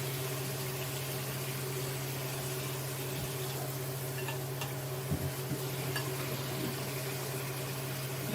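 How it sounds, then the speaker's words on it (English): Cabbage roll mixture is stirred in a pan, a steady low hum and soft sizzle running throughout with a few faint scraping knocks of the spoon midway. "I'll just stir all this right here together"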